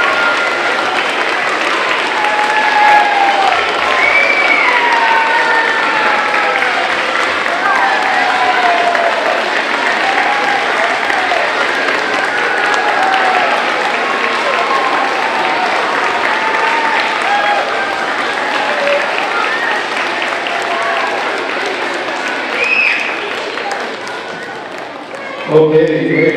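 Sustained applause from a school crowd for veterans at an elementary school assembly, loud and continuous for nearly half a minute, with children's voices and chatter mixed in, ending with a brief thump.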